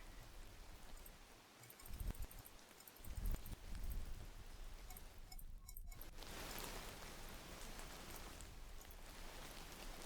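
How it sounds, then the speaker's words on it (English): A rain sound effect plays as a soft, steady hiss at low volume during a live bedtime-story broadcast, continuing alone with no voices over it. "Maybe we just have it a little louder so we can tell it is rain."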